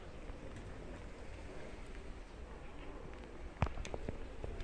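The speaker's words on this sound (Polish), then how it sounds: "Deszczyk pada." Light rain falling steadily on a barn roof at a large outdoor market in Mszczonów, a soft continuous patter with a brief louder knock near the end.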